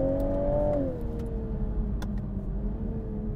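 A 2022 Toyota Supra engine accelerating, a steady close tonal engine whine that dips in pitch after about a second, as with a gear change, then holds on under a low rumble.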